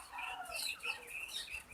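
Quail about to be slaughtered give a run of high, thin chirps and calls, repeating in short bursts, close and fairly quiet, with no talk over them.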